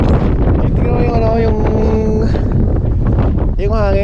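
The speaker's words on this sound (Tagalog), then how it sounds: "Napakahangin kasi." Strong wind on Mt Timbac buffets the microphone with a loud, constant roar, and a voice speaks over the gusts.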